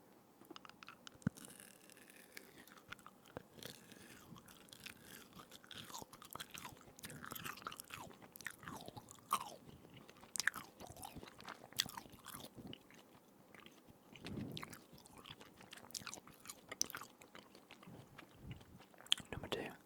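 Close, quiet chewing of gum with wet smacks, crunchy bites and soft clicks throughout, mixed with whispered speech.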